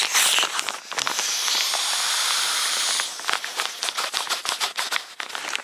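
A person blows a long, steady breath into the nozzle of an inflation sack at a Yosemite campsite, a breathy rushing hiss, then several short puffs and handling noises close to the microphone.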